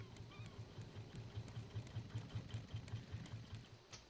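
A raft engine runs in the survival game Raft with a steady, low, rhythmic chugging pulse, quiet and mechanical, repeating evenly throughout with no voices.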